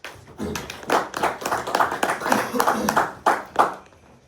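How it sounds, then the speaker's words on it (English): A small group in a high school class claps for a student after a presentation, a short burst of scattered, uneven hand claps with audible individual slaps over about four seconds. "round of applause"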